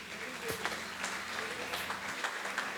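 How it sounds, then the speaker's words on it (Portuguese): A church congregation at an anniversary festival service claps in praise, giving fairly soft, steady applause with a few sharper claps standing out. A murmur of voices sits beneath it. "Aplauda o Senhor Jesus,"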